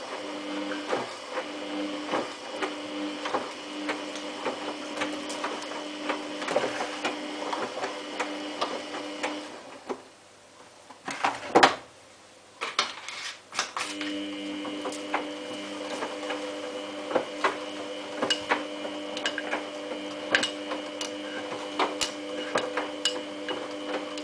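Samsung WF8804RPA washing machine running a sports 40 intensive wash with a sleeping bag inside, giving a steady mechanical hum and whir with repetitive clicking and ticking that dips briefly midway, heard alone without talk.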